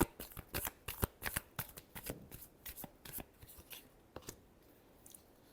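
Tarot cards are shuffled close by in a quick run of crisp riffles and slaps, busy at first and then slowing to a few scattered flicks.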